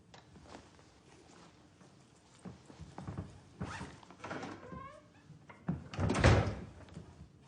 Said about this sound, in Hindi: अरे आते वक्त दरवाजा बंद कर सकती हो।